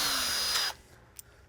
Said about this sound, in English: chuck it up super gently into my drill